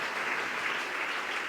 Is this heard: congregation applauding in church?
yes